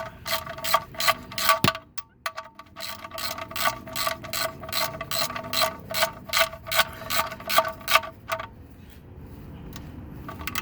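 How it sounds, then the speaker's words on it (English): Ratchet tightening the drain bolt during an oil change on a VW Mk5 Jetta, GTI, Beetle or Passat, rapid clicking bursts repeating in quick rhythmic strokes, close and clear, fading to quiet at the end. "So you go ahead and get the ratchet again and start tightening it up."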